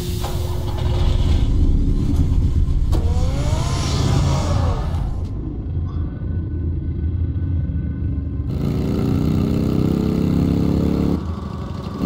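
A car engine in a Batman Arkham video game idles and rumbles with a low, steady drone, shifting in tone partway through and cutting in and out between scene changes.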